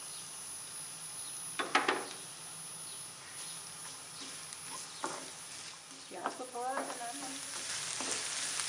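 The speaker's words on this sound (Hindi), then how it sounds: "सबसे पहले पैन में ऑयल डालेंगे। इसमें प्याज शामिल कर देंगे।" Onions frying in oil in a pan for aloo kachori filling, a steady soft sizzle throughout with occasional louder crackles and stirring scrapes, close and moderately quiet, with a faint voice in the background.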